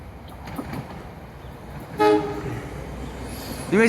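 An NJ Transit commuter train arrives at Mountain Station in South Orange, New Jersey, sounding two short horn toots over rumbling track noise from a multiple-unit electric train.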